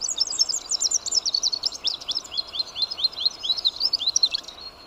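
A common tailorbird sings close by, giving a rapid, repeated series of sharp, high chirps that run steadily for several seconds against faint background noise.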